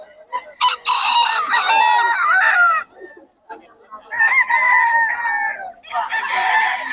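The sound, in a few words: chickens crowing and clucking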